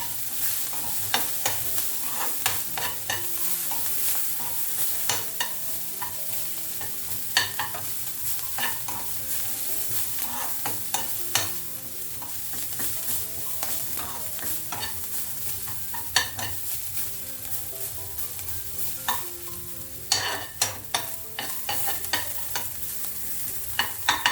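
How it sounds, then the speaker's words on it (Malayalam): Mustard seeds splutter in hot oil for a pumpkin, green gram and moringa leaf curry, a dense, continuous crackle of sharp pops and sizzling with louder bursts scattered throughout. "കടുകൊക്കെ ഒന്ന് നല്ലപോലെ പൊട്ടണം"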